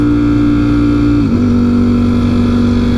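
A Ducati Streetfighter V4S revs in neutral, loud and close, holding a steady high drone before the pitch drops and settles at a lower steady level.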